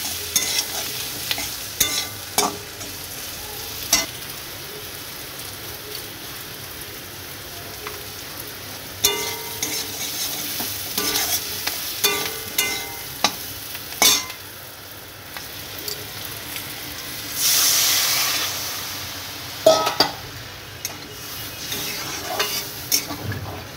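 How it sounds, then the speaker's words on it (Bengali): Spices for an ilish fish curry being stirred and fried in a pan, a soft continuous sizzle broken by repeated scraping and clinking of the spoon against the pan, fairly close and with no talking. "তারপর ভালো করে নাড়াচাড়া করে নেব।"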